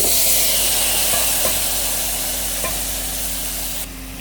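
Ridge gourd (tori) pieces hit onions frying with turmeric, red chilli, coriander and cumin, giving a loud, steady close-up sizzle with faint stirring clicks that softens slightly at the end.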